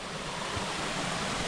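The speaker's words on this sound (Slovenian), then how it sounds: "Še ta slap z druge strani." The same hidden waterfall in Bohinj, now from its other side, gives a softer, steady rushing wash of water, a bit more distant and even, with faint wind-like noise and no talking.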